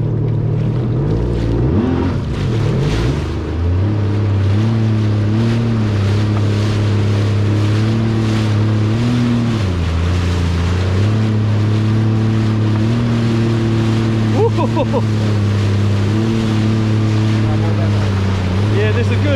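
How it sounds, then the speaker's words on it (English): A jet ski engine running on Subic Bay, droning steadily at low revs with a strong low hum whose pitch rises and dips as the throttle changes, accompanied by wind and water splash, with people talking over it. "We started the engine up."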